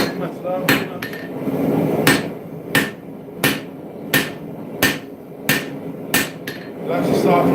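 Hammer blows ring out on a spear being forged at a smithing anvil, about a dozen sharp, evenly spaced strikes landing with a steady rhythm over a low background rumble.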